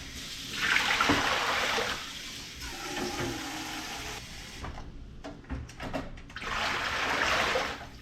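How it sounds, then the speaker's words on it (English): Warm water runs from a tap into a sink, filling about two gallons with a steady rushing splash that swells and fades, and a brief pause midway. "We'll put about 2 gallons in the sink."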